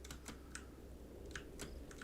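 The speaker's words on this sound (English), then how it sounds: "I bought this new mechanical keyboard like, I'm going to say 2 months ago at the most" Steady clicking of typing on a new mechanical keyboard, heard fairly faint and continuous against a low background hum, with individual keystrokes scattered across the stretch.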